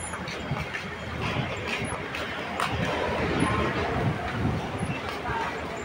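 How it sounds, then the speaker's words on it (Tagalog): Train ride with a steady rumble and rattle of the carriage, people talking over it throughout. "Dito na tayo sa train."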